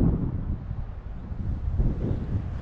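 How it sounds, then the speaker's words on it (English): Gusty wind at Sardine Lakes on a spring camping and hiking trip rumbles and buffets the microphone in a steady, low roar that swells and dips throughout, with no voices. "It's a little windy."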